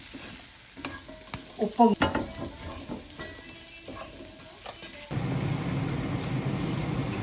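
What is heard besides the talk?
potatoes frying with cumin, masala, chili and turmeric powder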